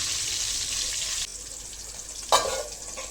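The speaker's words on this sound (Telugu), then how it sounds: "చూసుకుంటూ సిమ్లో చక్కగా వేయించుతూ ఉండాలి." Food fries gently in a pan over a low flame, giving a soft continuous sizzle with a brief sharper crackle partway through, heard alone.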